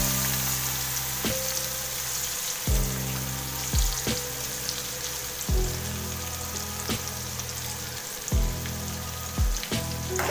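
Chopped onions and curry leaves sizzle steadily in a hot pan while cooking Kathiyawadi ringan no oro, a loud continuous frying hiss broken by repeated clinks of a spoon stirring.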